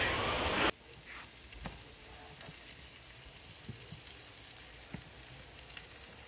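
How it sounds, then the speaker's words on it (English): Steady sizzling and crackling of wrapped asparagus frying in a hot pan in a Gozney Dome oven, close up, with occasional sharp pops and a brief louder burst at the start. "I can hear this asparagus talking to me here. It's sizzling pretty good."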